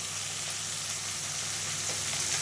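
Ingredients fry in a pan for sambar and kichidi, giving a steady, fairly faint hiss of sizzling oil with light stirring under it, heard close with no voices.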